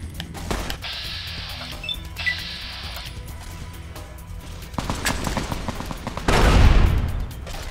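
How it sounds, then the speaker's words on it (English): Gunfire and frag grenade blasts in the video game Fallout: New Vegas: scattered shots and clicks, then heavier bursts toward the end with a loud booming explosion near the close. "I'm gonna use frag grenades instead"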